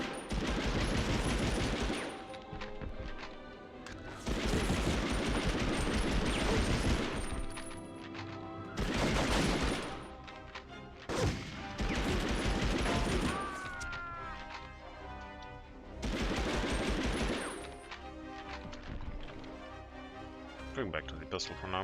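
Gunfire in the Medal of Honor Underground video game, heavy repeated bursts of automatic fire alternating with quieter stretches, loud and close, with a voice talking over parts of it.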